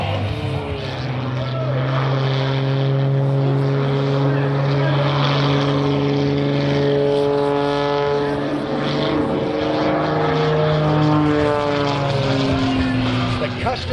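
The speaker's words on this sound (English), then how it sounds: "The custom-built MXS-RH that he flies, built for the way he flies." A custom-built MXS-RH aerobatic propeller plane performs at the NAS Key West airshow, its engine droning loud and continuous with pitch shifting as it maneuvers, while an announcer talks over it.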